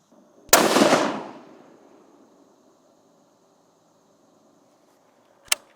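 A single loud hunting rifle shot cracks sharply and rolls off in a long fading echo outdoors, followed a few seconds later by a brief metallic click.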